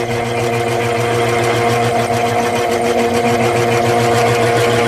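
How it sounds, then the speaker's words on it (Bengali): A clay mixing machine runs steadily while soil is fed in. The sound is a loud, constant mechanical hum and whir with a steady rhythmic drone throughout and no pauses. "মাটি মিশানোর যে মেশিনটা এটা হচ্ছে এটা দেখেন আস্তে আস্তে মাটি পড়ছে মিশিয়ে"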